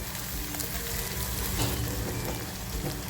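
Raw green peas fry in a pan for a paneer bhurji sandwich filling, giving a dense, steady close sizzle with occasional stirring sounds and no voices.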